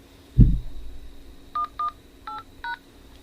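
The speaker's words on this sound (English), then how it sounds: "Press the ID number followed by the pound sign for the home you are calling about now to hear more about it." Telephone keypad tones dial a property hotline ID number: four short, evenly spaced beeps after a dull thump, with a steady faint hum under them and no speech.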